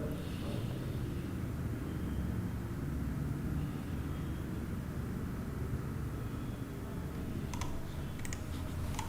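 Close computer keyboard typing as a campaign name is entered for an online ad, with a quick run of soft key clicks over steady low background hum.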